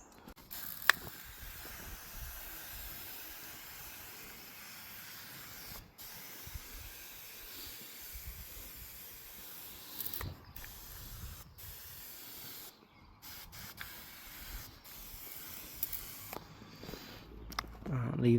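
Soapy water sprayed onto a car in a long hissing mist with a few brief breaks, steady and close, with quiet talking underneath.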